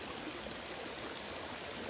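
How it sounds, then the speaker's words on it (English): A swollen creek after heavy rain rushes in a steady, dense broadband roar of flowing water, constant and moderately faint with no voices over it. "Today we're going to be showing you the creek after it has rained a lot."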